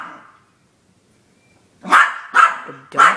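A Yorkie barks at a cardinal: three sharp, close barks in quick succession after a quiet pause, with no talk over them.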